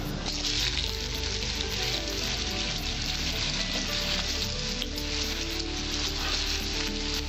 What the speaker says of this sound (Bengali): আমি হলুদ দিয়ে আর নুন দিয়ে আলুটা মেখে নিয়েছি দিয়ে এবার আমি কড়াইয়ে ছাড়বো